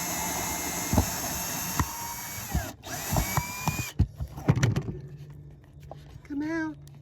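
A power drill backs screws out of deck boards during a deck repair, with several short bursts of whirring spread across the clip and tool clatter between them. A nearby voice talks over part of it.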